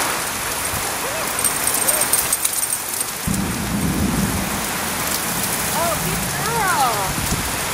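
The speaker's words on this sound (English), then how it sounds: "we're trying to teach Molly not to be afraid of the rain" Steady heavy rain pours onto outdoor surfaces, loud and constant, with rumbling thunder in the background; a person speaks and a dog whimpers briefly over the downpour.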